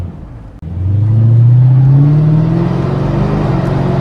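A Mercedes R230 SL500 with about 203,000 miles and a failing, slipping transmission revs hard from inside the car, with a loud engine note that climbs in pitch and then hangs at a steady roar.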